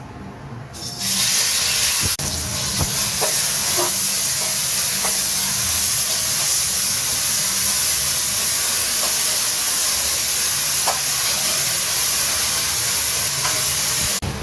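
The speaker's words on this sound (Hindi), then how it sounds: "ऑयल अच्छे से गर्म हो चुका है। इसमें ऐड करते हैं प्याज।" Onions going into hot oil in a kadai set off a steady, loud hiss and sizzle that starts about a second in and holds evenly throughout, with faint scattered pops and no talking.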